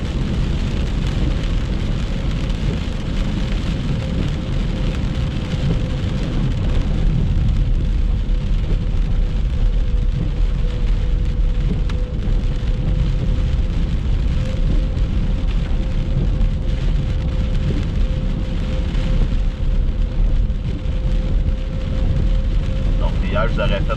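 Heavy rain during a December flood in southern Quebec, a dense, constant roar of downpour on surfaces that runs unbroken and loud throughout, with no voices.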